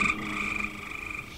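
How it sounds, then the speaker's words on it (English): A real frog croaking in a rapid, steady pulsing trill, close and fairly loud, heard on its own. "That's a real frog."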